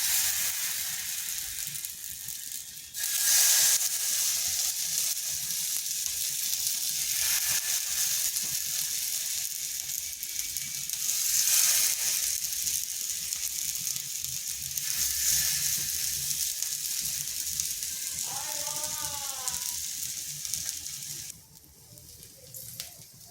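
Ingredients fry in a little oil in a pan over low heat, giving a steady, close sizzle that carries on almost the whole time and then drops quieter near the end.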